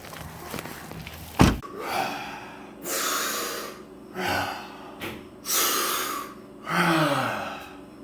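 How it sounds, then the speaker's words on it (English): Rapid, deep Wim Hof style breathing exercise, close up: a sharp gasp followed by a series of forceful breaths, strong inhales and exhales repeating every second or so, with no talking. "breathing like that, guys, is a biohack"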